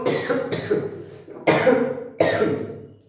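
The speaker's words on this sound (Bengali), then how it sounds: "সরি আমার এত কাশির হচ্ছে" One person coughs repeatedly, four harsh close bursts in uneven rhythm with short gaps, loud and without other talk.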